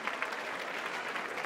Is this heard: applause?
yes